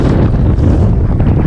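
Heavy wind blasts across the microphone on a sunny duck hunt, a loud, constant, broadband roar with no other sounds audible.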